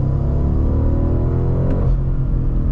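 A 2023 BMW M850i Gran Coupe under full throttle, a deep loud engine rumble with rising harmonics as it accelerates, heard from inside the car, easing slightly near the end.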